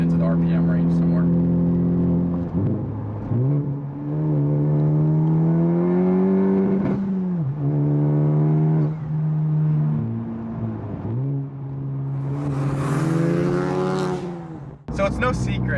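Honda Civic Type R turbocharged engine accelerating from inside the cabin, steady revving climbs through the gears with brief dips at each shift, loud and continuous, with someone talking over it.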